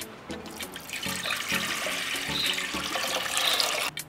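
Water poured steadily into a pot, about one and a half litres, with a continuous splashing rush and a few brief clanks, close and alone until it stops near the end.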